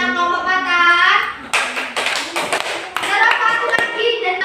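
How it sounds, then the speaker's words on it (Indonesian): Third-grade pupils in a classroom applaud a student group with a burst of many overlapping hand claps, close and fairly loud, sustained for a few seconds after a raised voice speaks at the start. "Beri tepuk tangan kelompok Batak."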